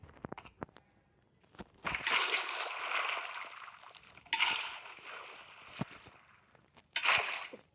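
Bursts of water splash and slosh from a bucket in the video game Minecraft, three loud washes of a couple of seconds each, separated by quieter gaps with a few sharp clicks.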